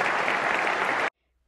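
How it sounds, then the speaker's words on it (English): Cricket crowd at a test match applauding an Australian batsman's century, a dense, loud, steady roar of clapping that cuts off abruptly after about a second, leaving silence. "A marvellous ovation from the crowd,"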